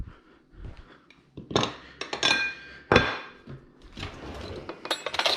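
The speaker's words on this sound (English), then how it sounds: "Get a spoon." A spoon clinking against dishes while room-temperature butter is prepared for grilled peaches; scattered sharp clinks and knocks of metal on glass or ceramic, close and fairly loud, with a few louder strikes.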